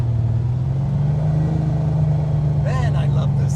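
1980 Chevy Camaro Z28 restomod with a gear drive, its engine giving a steady deep rumbling drone while driving, heard from inside the car, with a voice briefly speaking near the end.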